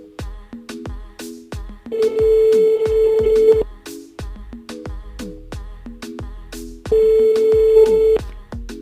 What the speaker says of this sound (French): On appelle Audrey.